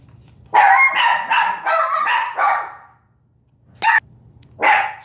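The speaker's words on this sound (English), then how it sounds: "The dogs went a little crazy." Several dogs bark loudly and excitedly in a quick run of overlapping barks, then two more sharp barks after a short pause, heard close by during an indoor tasting of an Arctic field ration meal.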